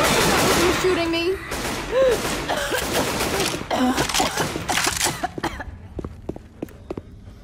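Rapid gunfire in Left 4 Dead 2 from a zombie shooter on the Snow Den map, a fast, loud run of shots that thins into sharp single cracks near the end, with someone speaking and coughing during it.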